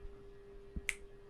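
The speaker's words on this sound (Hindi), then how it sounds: "तूने चुटकी मारना स्टार्ट कर दिया" A single crisp finger snap, sharp and close, heard alone in a quiet room over a faint steady hum.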